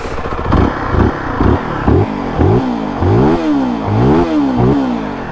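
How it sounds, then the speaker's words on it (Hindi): A Zontes 350X motorcycle with a twin-outlet exhaust revved repeatedly at idle, about eight loud, close throttle blips rising and falling in quick succession, with no talking. "एग्जॉस्ट इसका जो है आप देख सकते हैं, ट्विन आउटलेट आपको मिलता है। साउंड आपको मैं सुना देता हूँ।"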